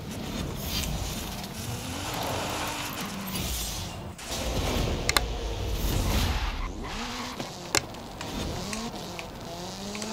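Race cars in Forza Horizon 5's Eliminator mode roar through a continuous run of revving engines with rising and falling gear sweeps, brief clicks and a short dip midway, and no talk over them.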